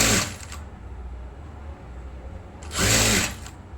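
A sewing machine stitches a folded blouse back piece in two short loud whirring runs at the start and end, with a steady low motor hum between them, close by.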